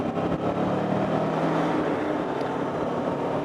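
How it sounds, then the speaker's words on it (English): Continuous engine drone of road traffic on Cornish roads in winter, a steady broadband rumble with no clear individual passes, heard from a rider's position with no speech. "Cornish traffic"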